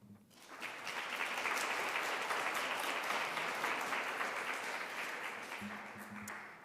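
An audience applauds at the 2024 GSAS SynThesis Competition. The clapping is dense and sustained, starts quickly, holds steady for several seconds, then begins to thin toward the end.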